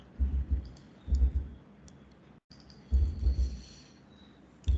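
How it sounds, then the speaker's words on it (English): Typing on a computer keyboard comes in short bursts of quick, soft key clicks separated by pauses, close but fairly quiet, with no talking. "So I'll type that."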